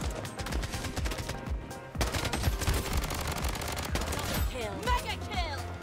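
Dense video-game gunfire in Bloodstrike, overlapping bursts and rapid shots layered with game effects and music-like tones, loud and continuous throughout.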